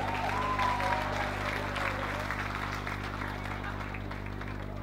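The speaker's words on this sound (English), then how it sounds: "Give him another round of applause." Wedding guests applaud at a reception, a dense and steady wash of clapping over a low background hum that fades slightly toward the end.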